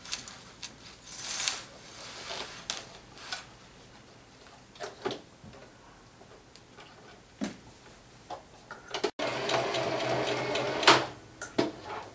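A sewing machine stitches elastic onto a bellydance coin scarf in a few short bursts, the longest near the end, with scattered light clicks and taps between them.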